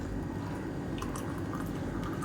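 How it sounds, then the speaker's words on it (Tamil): A boiled homemade drink trickles through a strainer into a cup, a continuous close splashing pour with a few higher drips over a steady liquid rush. "இப்போ இதை வடிகட்டிக்கலாம்."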